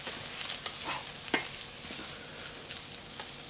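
Vegetables, onions and peppers, stirred as they fry in a pan for a steak dish, giving a soft steady sizzle with light scraping and occasional clicks of a utensil, heard alone at close range.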